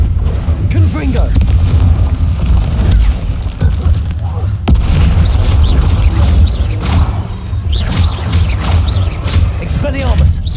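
Confringo blasting curses explode in Hogwarts Legacy combat, a series of loud booming blasts and thuds over a rumbling, busy battle din, with a voice speaking briefly among them.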